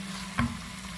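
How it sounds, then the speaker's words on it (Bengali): Chicken sizzles with spices in a hot pan while being sautéed for a majboos dish, giving a short, close burst of frying crackle over a low, steady hiss. "মশলার সাথে এটাকে সুন্দর করে কষিয়ে নিতে থাকবো"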